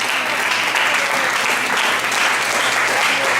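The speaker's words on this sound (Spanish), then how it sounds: "Démosle un fuerte aplauso al Señor por los ancianos de la iglesia" Steady, loud applause fills a church congregation honouring its elders, a dense continuous wash of many hands clapping throughout with no break.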